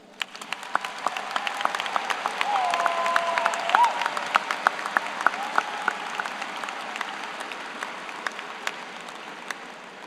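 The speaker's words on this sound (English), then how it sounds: "Can we give those people a round of applause?" A high school graduation audience bursts into applause, dense clapping that swells and holds steady for several seconds before slowly fading, with a few sharper individual claps standing out.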